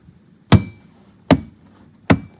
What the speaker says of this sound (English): that's just the panel popping right off